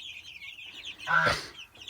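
A single meat chicken gives a short, loud cluck up close, while other birds chirp in the background.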